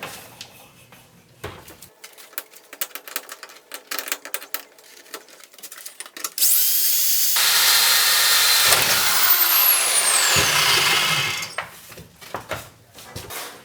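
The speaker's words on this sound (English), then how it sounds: "start by taking this rivet here out" A power tool drills out a rivet on the sidewall of an Apache camper, running as a loud, steady whine for about five seconds after quieter scraping and handling noises, then tapering into clatter.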